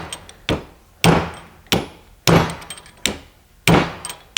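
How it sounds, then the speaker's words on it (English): A hammer pounds a stone, shaping a dome for a flint knapping bopper, in seven sharp, loud, close strikes spaced roughly half a second apart, each ringing briefly before fading, with no talking. "All you're going to do is you're going to slowly pound on this and rotate it as you do it"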